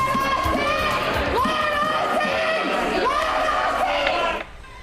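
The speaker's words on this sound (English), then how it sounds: "Hundreds gather at the Capitol for another round of protests against the governor's executive orders." A protest crowd of hundreds gathered outside the Capitol against a governor's executive orders, a loud continuous roar of many voices and cheering that holds steady, then drops away abruptly near the end.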